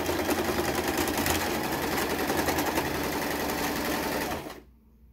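Sewing machine stitching a fabric face mask, running in a close, steady rapid mechanical chatter for several seconds before stopping abruptly.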